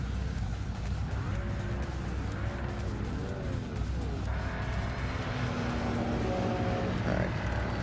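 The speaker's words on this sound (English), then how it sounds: "I hear the cars" Race cars in a racing video game drone steadily as engines rev and shift, a continuous mechanical roar with rising and falling pitch sweeps, while a person speaks quietly underneath.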